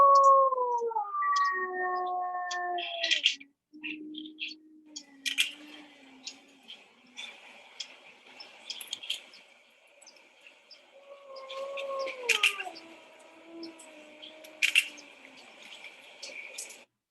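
A wolf in boreal forest lets out long, gliding howls, rising then falling in pitch, with a second drawn-out howl later amid sparse clicks and quiet gaps.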